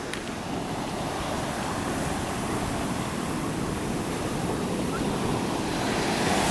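Pacific Ocean surf breaking on a sandy beach at Brookings, Oregon, a steady, loud, close roar of crashing and washing water with wind buffeting the microphone and no pauses.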